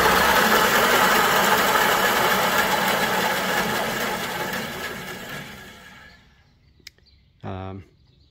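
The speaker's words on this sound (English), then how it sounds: "it sounds like a bandsaw" A bandsaw runs with its plastic blade guide removed, giving a loud, steady broadband whir that winds down and fades to near silence, followed by a brief rattle and a short tonal buzz at the end.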